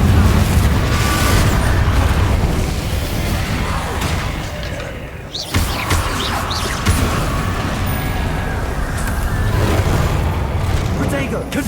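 Spell blasts and booming impacts in a Harry Potter video game fight against Inferi, loud and continuous, with a brief drop before more bursts; a voice talks over the din.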